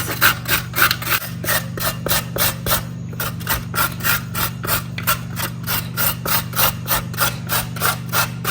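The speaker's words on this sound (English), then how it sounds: "grate some coconuts for toppings" Fresh coconut is scraped on a grater for cake topping, a rhythmic series of close, raspy strokes repeating steadily about twice a second, with a faint constant hum underneath.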